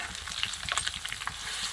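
Garlic paste and curry leaves frying in groundnut oil for a tempering, with quiet steady sizzling and crackling pops scattered through it and some light stirring, with no talking.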